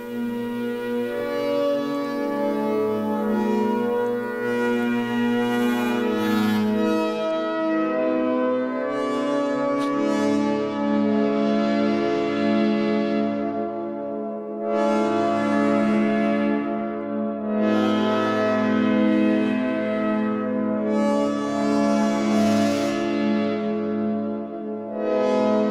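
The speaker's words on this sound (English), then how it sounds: "A few more sounds with the Polybrute 12 going." Arturia PolyBrute 12 synthesizer playing a rich, sustained bell-like preset, long ringing chords with bright shimmering overtones swelling in several phrases, loud and alone.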